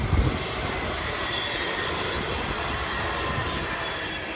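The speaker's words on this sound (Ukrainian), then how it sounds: "Так поїзд." A train passes close by outdoors, a steady loud rumble and rushing roar of rail cars with wheel noise filling the whole stretch, no voices.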